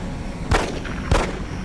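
Incoming enemy fire in XCOM: Enemy Unknown, two sharp thumping shots about half a second apart over a steady game background.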